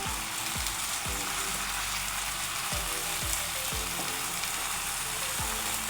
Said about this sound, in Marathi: तवा देखील छान गरम तापलेला पाहिजे म्हणजे पटपट आपले थालेपीठ छान बनतात